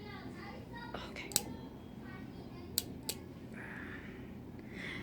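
Fingernails being trimmed with clippers, giving a few sharp, isolated clicks spread over several seconds against a quiet room background.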